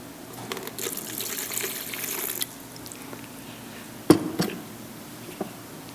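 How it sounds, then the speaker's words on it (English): Water pours into a bucket of clay pieces, a steady close gush for about two seconds, then quiet with a few wet knocks and splashes as it settles. "and we add a little water."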